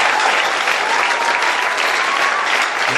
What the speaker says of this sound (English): Clap that hand for Jesus.